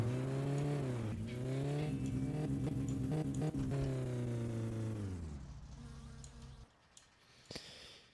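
A Tavria car engine in a rally video game drones loudly at steady revs with a buzzing tone, then winds down and fades away, leaving faint clicks and a quiet background.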